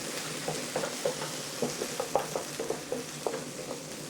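Potato and onion being stir-fried in a pan with butter, salt and pepper for corn soup. A steady sizzle runs throughout while a spatula scrapes and taps the pan in a loose rhythm.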